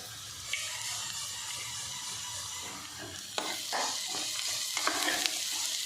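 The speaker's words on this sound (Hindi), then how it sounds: "ਹੁਣ ਅਸੀਂ ਇਧਰ ਕੜਾਹੀ ਦੇ ਵਿੱਚ ਤੇਲ ਪਾ ਕੇ ਤੇ ਪਿਆਜ਼ ਪਾ ਕੇ ਤੜਕਾ ਤਿਆਰ ਕਰਿਆ" Onions fry in oil in a kadai for a tadka, giving a faint, steady sizzle with soft stirring scrapes toward the end.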